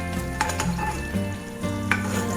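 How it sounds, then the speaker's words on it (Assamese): Prawns fry in oil for a prawn coconut curry, a steady close sizzle with light stirring clinks and a few brief crackles, no voices. "মাছকেইটা দি ফ্ৰাই কৰি লৈছোঁ।"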